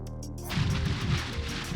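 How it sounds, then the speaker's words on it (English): A projectile lands in the ARCADIA video game and sets off an explosion effect: one sudden loud burst, then a rough rumbling tail that fades. Nothing else sounds alongside it. "the big explosion sound when it lands"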